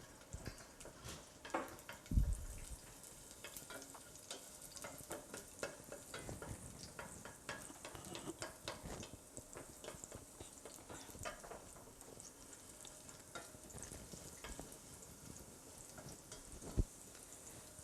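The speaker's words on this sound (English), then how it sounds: "Okay, this is sizzling." Garlic with salt, a basil leaf and tomatoes nearby sizzles quietly in a pan on the stove, a soft continuous crackle with occasional stirring clicks.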